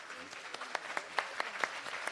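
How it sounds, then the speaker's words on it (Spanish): An audience applauds steadily at a talk on football and dictatorship in Chile, a dense patter of clapping hands at moderate volume without voices. "Agradecemos con este tremendo aplauso"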